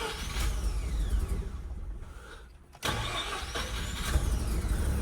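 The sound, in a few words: Mazda RX7 Series 5 rotary engine starting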